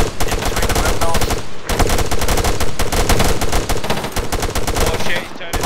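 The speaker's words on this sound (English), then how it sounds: "We got a heavy MG up in between the windmills." Heavy machine gun fire in the ArmA 3 war game: loud, dense, rapid bursts of shots that rattle almost nonstop, with only a short pause between volleys.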